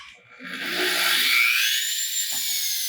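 A PanelMax drywall fabrication machine's saws starting up, a whirring power-tool hum that rises and holds steady at close range, with a faint knock near the end.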